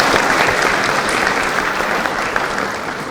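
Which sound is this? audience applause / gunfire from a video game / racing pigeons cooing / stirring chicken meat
audience applause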